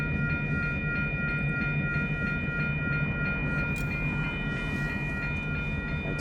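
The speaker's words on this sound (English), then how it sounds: "train's backing up." A train backs up across a railroad crossing at night, giving a continuous loud rumble of rolling wagons with a steady tonal ring, likely from the crossing signal, sustained throughout without talk.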